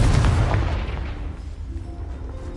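A Confringo blasting spell goes off in Hogwarts Legacy as a loud, close boom with a heavy low-end burst, then rumbles and fades over a couple of seconds.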